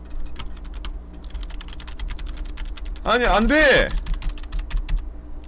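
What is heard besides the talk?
computer keyboard being mashed while gaming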